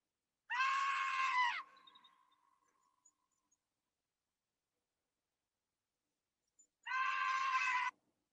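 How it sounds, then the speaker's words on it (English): A chipmunk screams in two long, shrill, high-pitched bursts separated by several seconds of near silence, with a faint trailing squeak after the first. "this is that screaming chipmunk"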